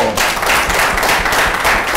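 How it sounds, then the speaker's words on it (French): An audience at a journalism talk breaks into loud, close applause, a dense rush of clapping hands with a few sharper individual claps standing out across the short burst. "Je vous demande de l'applaudir très très très fort."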